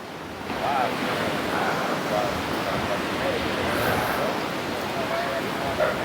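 Ocean waves on the beach at Málaga, a steady broad wash of surf with wind buffeting the microphone, continuous and fairly loud, with faint voices underneath.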